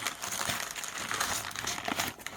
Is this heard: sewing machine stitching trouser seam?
no